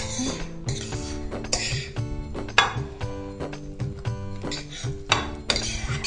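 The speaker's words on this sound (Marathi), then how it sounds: "आता याच्यामध्ये आपण भाज्या मिक्स करणार आहोत" A spoon clinks and scrapes against a bowl as tempered vegetables are mixed into a binding mixture for vegetable cutlets, giving quick, irregular metallic taps close by.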